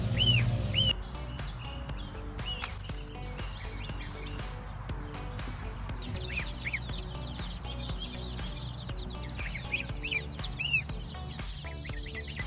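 Young chicks and goslings peep and chirp in scattered high-pitched bursts while being moved from a brooder to a chicken tractor, over a low background bed of music and noise.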